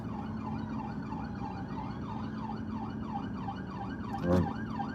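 A police car siren wails in a steady, repeating rise-and-fall pattern at moderate distance, with traffic rumbling underneath and a short thump near the end.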